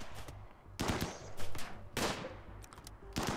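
Bursts of gunfire in RimWorld come in several clustered volleys with brief gaps, loud and sharp against a steady low game background, with no talking.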